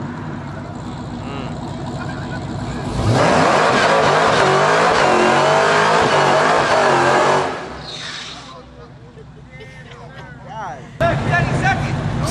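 A car with a big turbocharged LS engine races past, its loud roaring run swelling from about three seconds and holding until nearly seven before fading, while people talk over the scene.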